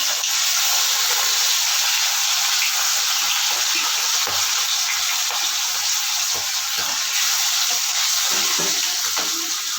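Pieces of boal fish fry in well-heated oil, producing a continuous, loud, hissing sizzle that holds steady and close for the whole stretch, with no voices.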